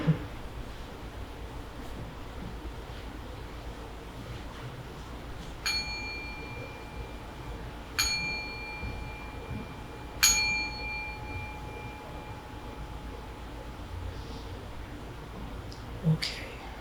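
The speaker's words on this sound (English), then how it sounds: "So I'm going to ring the bell to begin in just a sec here." A meditation bell rings several times at the start of a sitting, each clear strike sustaining a long bright tone over a quiet room, spaced a few seconds apart.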